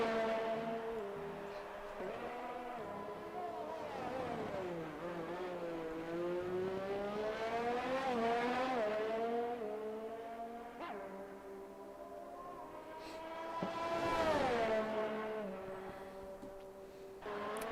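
A race car engine whines and revs through an onboard lap in a sim racing game, pitch sweeping up and down through gear changes and corners, steady and fairly loud with no talk over it.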